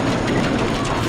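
A roller coaster train rolls along its track in the Roller Coaster Tycoon video game, a loud, continuous rumbling clatter without talk.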